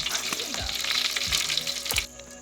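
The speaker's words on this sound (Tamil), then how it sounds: "கடுகு போடுறோம்." Mustard seeds frying in hot oil for a village-style chicken gravy, a close crackling sizzle with sharp pops, cut off abruptly after about two seconds.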